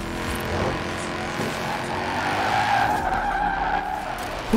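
A Lotus Omega drifting in Forza Horizon 4, with tires squealing in a long sustained skid over the steady roar of the engine, loud and close with no talk.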